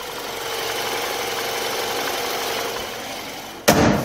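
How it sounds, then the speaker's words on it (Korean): A steady, low engine hum from an imported sedan idles evenly at close range with the bonnet open, then a brief louder broadband burst of noise cuts in near the end. "엔진 소리 듣기 위해서 보네트까지 개방을 해봤습니다"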